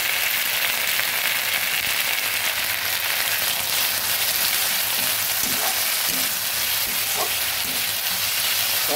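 Ginger, garlic and onion paste frying in a pan for chana masala gives a steady, loud sizzle with dense crackle and a few light clinks of stirring, with no voices.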